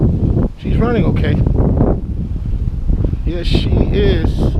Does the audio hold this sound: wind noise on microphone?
yes